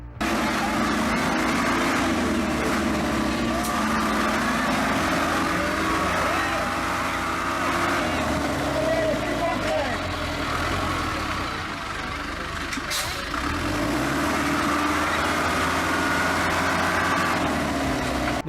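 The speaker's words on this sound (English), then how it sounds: "This orchard tractor and its driver were having a smooth ride on the farm until he got to this bad spot and he couldn't get past it." An orchard tractor labours while stuck in farm mud, its engine droning loud and close with a continuous growl that dips and rises as the driver pushes against the sludge, the strain never letting up.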